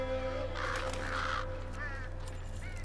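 Crows caw in the video game Tearaway Unfolded, with a few harsh calls in a row over a steady low hum.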